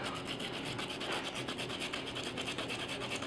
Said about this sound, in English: Actual radish, and then you grind it